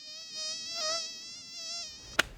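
Mosquitoes whine in a high, thin, continuous drone that swells and fades as they move close, ending with a sharp slap or tap.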